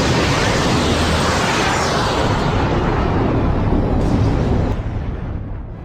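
A huge explosion in the One Piece anime's Alabasta arc gives a loud, continuous roaring rumble of broadband noise that holds for about four seconds, then fades out. No speech.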